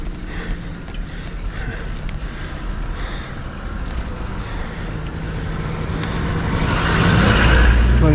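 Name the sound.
car passing by on a mountain road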